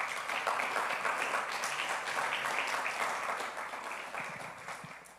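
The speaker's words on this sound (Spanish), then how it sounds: "Acompáñame con un aplauso al Señor" A church congregation claps together in sustained, even applause that holds steady for several seconds before gradually fading, with no talking over it.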